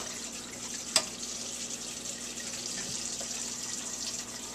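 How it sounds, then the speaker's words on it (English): A pan gets washed under steady running water, making a continuous, even splashing hiss for the whole stretch with one brief clank near the start. "I'm cleaning the pan now."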